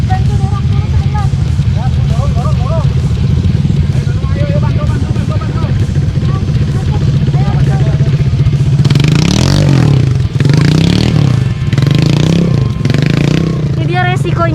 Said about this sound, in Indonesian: Ada motor yang nyangkut, jadi kita harus bantu dorong dulu sebentar.